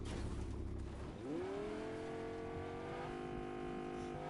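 A damaged, worn-out car in the video game Fortnite revs its engine. The whine rises sharply in pitch and then holds a steady, droning tone, with a gritty rumble underneath.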